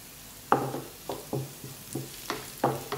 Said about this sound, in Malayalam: ഈ സവോള ഇനി നല്ലതായിട്ടൊരു ബ്രൗൺ ഷെയ്ഡ് ആകുന്നിടം വരെ നമുക്കൊന്ന് വെയിറ്റ് ചെയ്യാം.